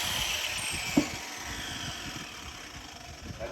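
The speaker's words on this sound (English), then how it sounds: "I keep a side grinder handy" A side grinder whines steadily and loudly, taking a burr off a forged piece, with a brief clank of contact near the start.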